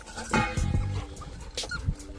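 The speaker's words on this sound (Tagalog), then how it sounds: "Mga tuta." Puppies whimper and yip close by in short, high, overlapping cries, with a few soft murmurs mixed in.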